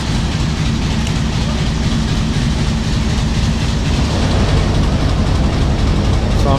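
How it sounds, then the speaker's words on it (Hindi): Mehr Express, a train running from Multan, approaches Rawalpindi railway station in the rain with a loud, steady rumble of engine and wheels, a heavy continuous roar close by that does not let up. "सामने से महर एक्सप्रेस अप्रोच कर रही है रावलपिंडी रेलवे स्टेशन पे"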